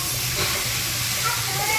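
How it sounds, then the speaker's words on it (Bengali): Fried potol (pointed gourd) and potatoes stirred into sizzling masala in a pan, a dense, continuous close sizzle with faint scraping underneath. "তো এবার আমি যে পটল আলুগুলো ভেজে রেখেছি সেটা দিয়ে দিচ্ছি"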